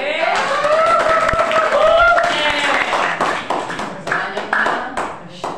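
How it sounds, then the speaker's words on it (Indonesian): Students in an Indonesian language classroom clap together, a quick ragged patter of hands that rises and thins out, while voices talk and call out over it throughout. "Baik, berikan tepuk tangan."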